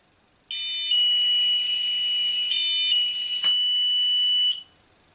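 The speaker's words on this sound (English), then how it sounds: "A short beep." An Arduino Uno alarm clock buzzer sounds one steady, loud, shrill electronic tone that holds for about four seconds before cutting off.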